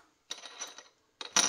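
Two dice rattle and clatter across a tabletop during a board game night, two short bursts of bright clicking separated by a brief pause, the second louder and closer.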